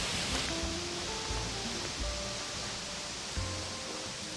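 Yoro Falls in Gifu Prefecture, Japan, fills the air with a constant broadband roar of falling water, steady and enveloping, with faint distant murmurs beneath it.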